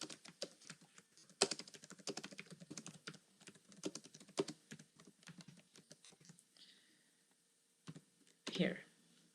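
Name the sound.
typing on a computer keyboard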